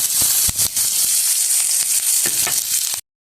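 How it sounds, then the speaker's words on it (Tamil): Onions and curry leaves sauté in a little oil, giving a steady bright sizzle with a few soft stirring knocks, close and loud, and no talking, then stopping abruptly near the end. "கருவேப்பிலை, வெங்காயம் எல்லாத்தையும் போட்டு நல்லபடியாக வதக்கி எடுப்போம்"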